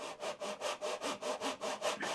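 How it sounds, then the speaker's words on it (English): A hand saw cuts along a groove in a wooden tray, about nine steady back-and-forth strokes in an even rhythm, close and clear with no talk. "we want to come in at the top end here and start sawing"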